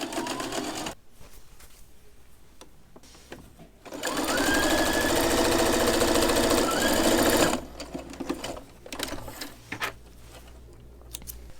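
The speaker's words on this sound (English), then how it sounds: "which is a top stitch around everything at 1/4 inch" A sewing machine top stitches cargo pants made from a tablecloth, running in one steady, fast, close mechanical whir for about four seconds, with quieter handling clicks before and after.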